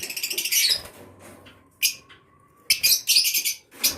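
Fischer's lovebirds kept in breeding cages chirp in quick, sharp bursts of high twittering, close and loud, separated by brief quiet gaps with faint background noise.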